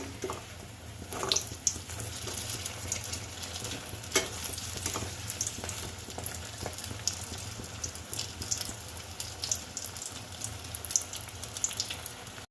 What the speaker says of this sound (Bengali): দেখো এইভাবে সবগুলো আমি ভেজে নেব